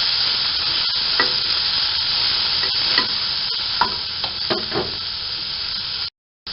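Onions fry in a pan with a constant bright sizzle while a spoon stirs them, adding repeated scraping taps at irregular intervals; the sound stops abruptly just before the end, with no talking.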